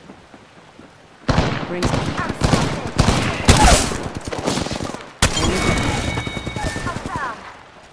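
Gunfire is aimed at the player in a video game, with bursts of loud, close shots and rapid volleys amid chaotic combat noise, and a voice speaks briefly over it.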